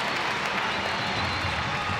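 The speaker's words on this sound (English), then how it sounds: "And the crowd rises to salute both." Ice hockey arena crowd applauding players after a fight, a dense, steady roar of clapping and cheering that fills the whole stretch at full volume.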